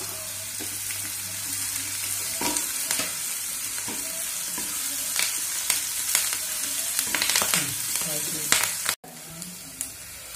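Bird's eye chillies frying in a pan for a mushroom curry, with a steady loud sizzle throughout and repeated scraping stirs from a utensil, ending in a sharp cutoff near the end.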